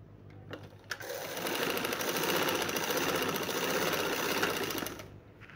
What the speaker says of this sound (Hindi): ये हम यूँ सिलाई लगाते जाएंगे